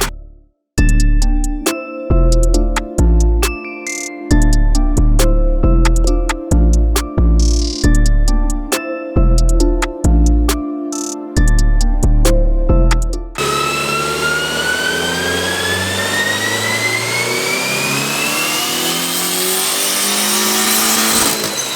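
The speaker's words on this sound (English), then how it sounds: "This is my 1993 Honda Civic EG hatch, and today is dyno day." A 1993 Honda Civic EG hatch with a big turbo, LS VTEC setup and forged internals revs on a dyno. Loud, choppy bursts of throttle come first, then a long continuous pull climbs steadily in pitch.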